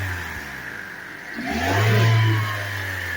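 A 2021 Lexus NX engine idles, then revs up briefly to about 3,000 rpm and eases back down to a steady idle; close and fairly loud, no voices.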